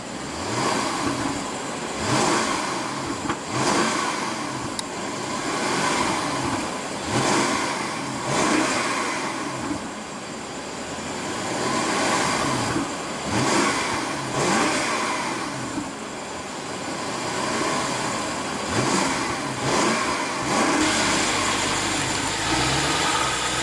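A 2015 BMW 650i Gran Coupe's 4.4 L twin-turbo V8 revs repeatedly, each rise in engine speed followed by a fall back toward idle, loud and close, with no talking.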